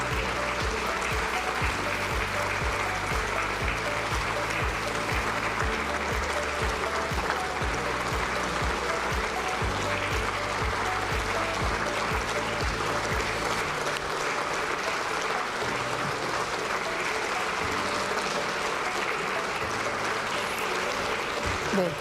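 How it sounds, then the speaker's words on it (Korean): Lawmakers in a national assembly chamber applaud steadily as the president leaves after a budget address, a continuous dense clapping that runs the whole time beneath a murmur of voices and low background sound. "국민의힘 국회의원들과 박수 인사를 나누고 있습니다."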